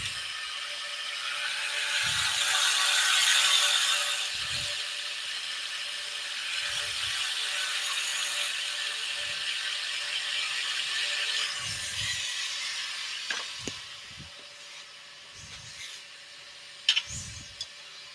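A half-inch spindle gouge cutting a wooden light pull spinning on a lathe, with a continuous close whirring hiss and intermittent low knocks and clicks, no talking.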